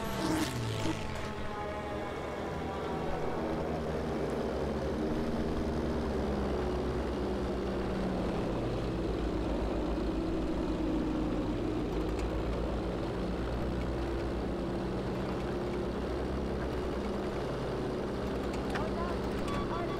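A propeller plane engine in the Battlefield V video game drones steadily and loudly, a continuous humming roar with shifting tonal layers that runs unbroken for the full twenty seconds amid other battle noise.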